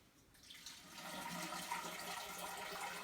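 Water pours steadily over a mash of elderberries for homemade wild fermented wine, a continuous splashing trickle that builds after a quiet start and runs on close by.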